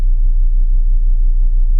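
A Volvo V70 2.4D P3 diesel engine with faulty injector wiring misfires and shakes, giving a loud, deep, continuous rumble with a low uneven throb and nothing else heard.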